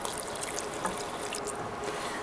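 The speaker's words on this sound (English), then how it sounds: "just add a bit of water for it to make that sauce" A bit of warm water poured into a pan of chicken to make a sauce, heard as a soft, steady trickle and splash, faint and close, with no talking.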